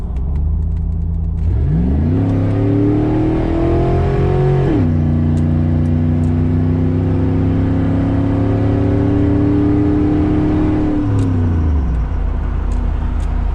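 LS-swapped Chevrolet K1500 pickup rolling on at about 30 mph on a back road, the V8 rising in pitch through a loud pull, shifting, then holding a steady drone before easing off.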